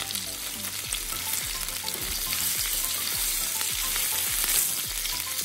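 Salmon fillets for a garlic and lemon dish fry in a pan, giving a steady, close, crackling sizzle with popping spatters throughout and no voices.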